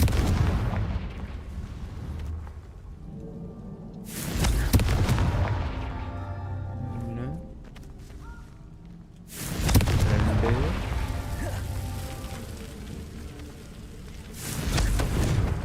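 A Confringo fire spell in the Hogwarts Legacy video game explodes in three loud booming blasts, each trailing off into rumbling debris, with quieter game sounds between them.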